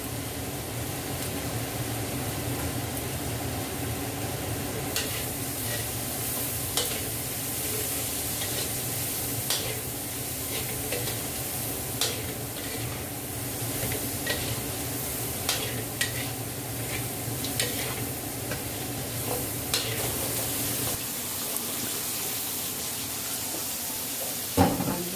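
Garlic frying in a pan for fried rice, a steady close sizzle and hiss running throughout, punctuated by frequent scraping spatula clicks as it is stirred, with no talk over it.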